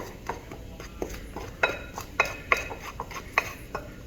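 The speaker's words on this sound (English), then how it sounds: "we're gonna take our trusty spoon and we're gonna mix everything in" A spoon works crabcake stuffing with Old Bay seasoning around in a bowl, making a soft, irregular run of scraping and wet mixing sounds broken by several sharp, close clinks of metal against the bowl's side.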